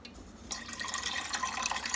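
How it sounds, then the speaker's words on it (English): Chicken broth poured into a cooking pot for homemade chicken and dumplings, a steady close liquid splashing and trickling that begins suddenly and keeps running. "I'm adding the rest of the chicken broth"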